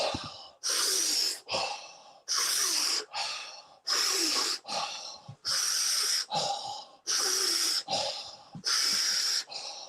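Forceful deep breathing in a group breathwork session, with strong repeated in-and-out breaths in a quick, steady rhythm, loud and close, with no talking over it.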